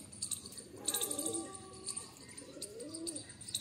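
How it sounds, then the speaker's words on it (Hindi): Pigeons coo softly and repeatedly nearby, with chirps and rustling around them, outdoors at a pigeon loft. "अभी भी एक कबूतर उड़ रहा है"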